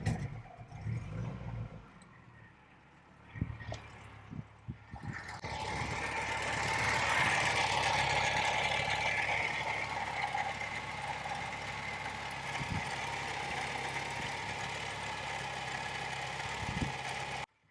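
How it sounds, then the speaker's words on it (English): A car engine cranks and catches, then settles into a steady, fairly loud idle that runs on alone for the rest of the time, with the radiator and coolant being worked on. "I'm gonna start the car up and see if it hits the radiator."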